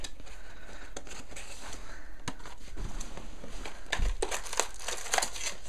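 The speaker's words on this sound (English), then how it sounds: "So I'm gonna quickly open up the each individual pack." Foil wrappers of trading card booster packs crinkle and tear open in close, sharp bursts, growing busier and louder toward the end.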